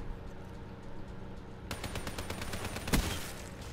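Video game gunfire while aiming for headshots: quiet at first, then a rapid burst of loud automatic shots cracking in quick succession, with one sharper heavier blast near the end.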